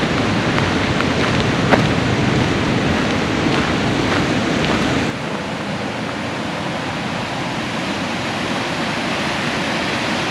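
Bridal Veil Falls roars continuously nearby, a dense broadband wash that drops slightly in level halfway through.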